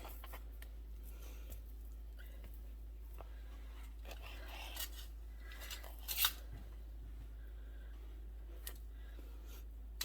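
A knife trims fat from a pork loin in quiet, close strokes, faint slicing and squishing sounds over a steady low hum, with a sharper clatter about two-thirds through.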